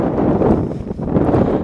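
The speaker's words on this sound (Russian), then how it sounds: "Ветер все-таки есть." Low, blustery wind in Spain buffets the microphone in uneven gusts, a muffled rumbling roar with no voices.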